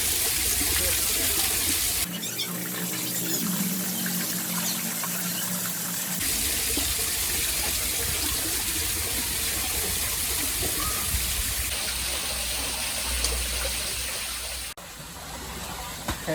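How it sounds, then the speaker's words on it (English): Water pours and splashes continuously, a steady rushing hiss from a small artificial aquarium waterfall falling into a pond, heard up close with brief shifts in tone. "you can see that now the waterfall is falling into our pond beautifully, and Karna also excited."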